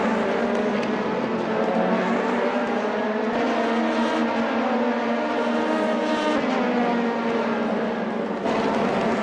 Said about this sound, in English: Here's Relio in the main straight, Dak Patterson as well coming into the pits